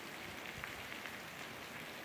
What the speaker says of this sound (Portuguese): Eita, chuvinha boa nesse momento, aqui na cidade de Sossego.